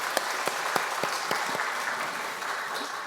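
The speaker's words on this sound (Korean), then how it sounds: "박수로 환영하겠습니다." A church congregation applauds warmly, a dense patter of clapping with a few sharp, louder claps standing out, steady throughout.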